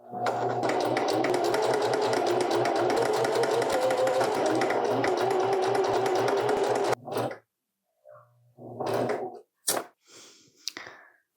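A sewing machine stitches a t-shirt seam, a steady rapid whirring hum running continuously for about seven seconds, close and moderately loud, then stopping, followed by a few scattered handling knocks and rustles.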